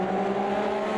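Old Porsche race car engine in the Automobilista 2 racing game, a continuous loud, steady engine drone with strong low harmonics, held at constant pitch with no talk over it.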